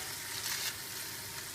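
Chunks of meat for Greek stifado brown in a hot pan, giving a soft, continuous sizzling hiss with a slight swell in the middle, heard alone and fairly faint.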